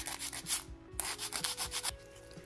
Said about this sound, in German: Und jetzt muss ich hier nur noch mal ein bisschen die Feile ansetzen.